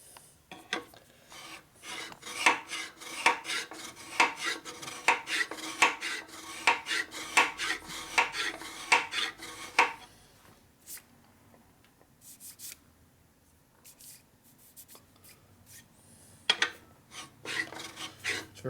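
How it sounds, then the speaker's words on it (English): A hand file rasping across a high spot on a 1961 Harley-Davidson FL 74ci panhead engine part, rhythmic close back-and-forth strokes for about ten seconds, then quieter, sparser strokes with pauses. "It's very hard to file something flat too"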